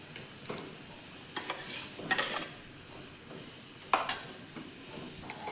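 A spoon scrapes and stirs thick papaya puree for jam in a pan over high heat, with soft sizzling and a few sharper clinks against the metal.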